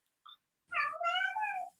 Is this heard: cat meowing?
yes